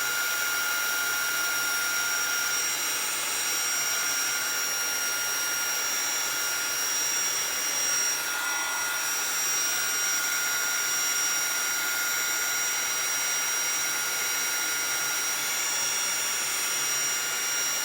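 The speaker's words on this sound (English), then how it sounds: "I think it's a little less noisy, but it's still a hairdryer" A new hairdryer runs continuously, a steady loud whooshing roar with a high whine that holds level throughout, close by and uninterrupted.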